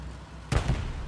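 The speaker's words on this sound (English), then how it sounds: "Just shot that cannon right over my head" A tank cannon in the Hell Let Loose video game fires once overhead, a single sharp, heavy boom with a short low rumble that breaks through a quieter background.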